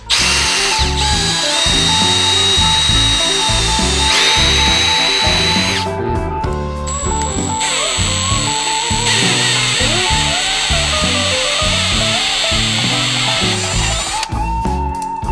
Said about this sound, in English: drill a hole in the end of this back support piece so that I can follow up with a bigger drill bit